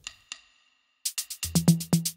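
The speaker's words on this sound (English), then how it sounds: "Then I added this high wood percussion shot." A high wood percussion shot in an Afro House beat rings out with reverb, first as two faint hits, then as a fast run of bright, sharp knocks over a low thumping pulse.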